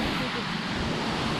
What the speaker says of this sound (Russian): Вот он, водопад Бойкинский.